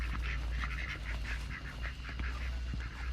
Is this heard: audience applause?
no